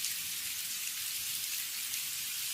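Steady rain pours down in an animated Hindi village story about a samosa seller's cart, a continuous even hiss of falling drops with no pauses or voices.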